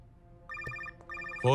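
A telephone rings in a Hindi action film scene, two bursts of trilling electronic rings separated by a short gap, fairly clear over quiet background, followed by a louder sound at the end.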